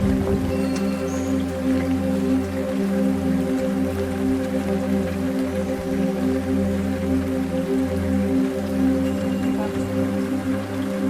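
Rain falls steadily at Ouimet Canyon, a rocky provincial park lookout, with continuous patter and drips over a constant low hum, no voices.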